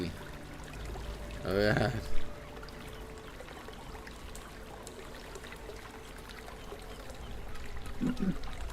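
A flowing water sound effect plays during a Pathfinder 2e tabletop role-playing session, a faint steady stream running throughout. A voice briefly speaks early on.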